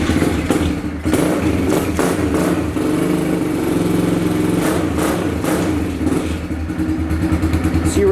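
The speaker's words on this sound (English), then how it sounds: "So you rev her out with the choke pull a little." A Kawasaki KLX110 pit bike engine runs with the choke pulled in freezing weather, its small single-cylinder motor revving steadily in a buzzy, clattering drone with slight rises and dips in pitch, close and loud throughout.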